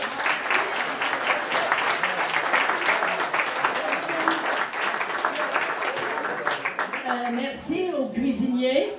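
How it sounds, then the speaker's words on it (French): Family members applaud warmly for a host at a Thanksgiving meal, with dense clapping running for several seconds, mixed with voices and chatter and a voice rising clearly near the end. "Je pense que ça vaut une bonne main d'applaudissements."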